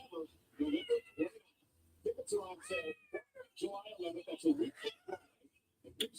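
A house cat meows several times, the calls alternating and overlapping with a person talking nearby.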